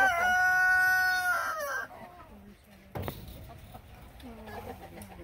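Rooster crowing on a poultry farm among various breeds, one loud, close drawn-out crow followed by softer clucks and farmyard murmur.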